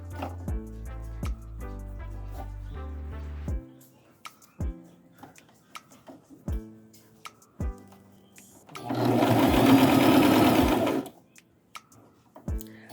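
A sewing machine stitches a fabric scrunchie in short stop-start bursts, a steady mechanical whirr broken by pauses and clicks, then a louder, broader rush of noise before it settles again.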